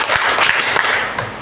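A class claps together in a patterned clap routine, making a brief, loud, close burst of clapping with a few sharper accented hits.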